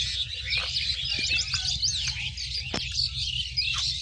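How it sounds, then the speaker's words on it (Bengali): Small birds chirping and tweeting in a Bangladeshi village, a busy overlapping stream of high calls, fairly close, over a low steady rumble of background noise. "পাখির আওয়াজ শুনতে অবশ্যই ভালোই লাগতেছে।"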